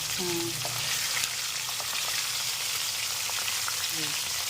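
Rui fish sizzles steadily in hot oil, a dense continuous frying hiss throughout, with brief voices speaking over it.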